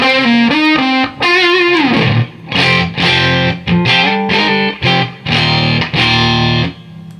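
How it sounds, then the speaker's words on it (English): Electric guitar played through a Fuzz Face fuzz pedal, loud thick saturated fuzz tone in a series of chopped chords and short riffs with brief gaps, heard alone. "Fuzz face."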